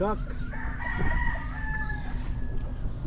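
A gamefowl rooster, a McLean F1 cross from Koja Game Farm, crows in one long drawn-out call at moderate distance, with steady farmyard background noise underneath and no talking.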